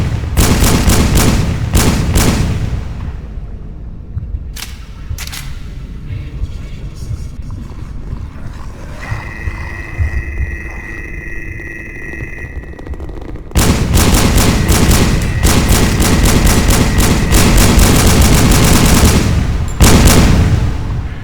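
Pistol shots crack out in the HordeZ VR zombie shooter, a close, loud run of sharp reports in quick bursts with gaps between volleys, over game ambience and a voice talking.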